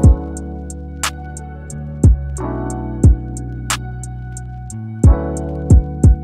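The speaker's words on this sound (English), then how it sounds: "If you're using FL Studio and you want to make a beat that sounds like this" A beat built in FL Studio layers deep booming bass hits, sustained synth chords and crisp ticking hi-hats in a steady loop, loud and alone with no speech.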